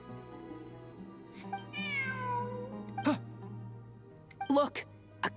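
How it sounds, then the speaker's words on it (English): A cat meows in Genshin Impact with a drawn-out, rising-then-falling call, followed by a few shorter meows near the end, over steady background game music. "Look, a cat."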